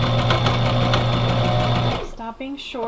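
A sewing machine stitches fabric for a scrappy bag, humming in a fast, steady whir for about two seconds before stopping short. A person then speaks.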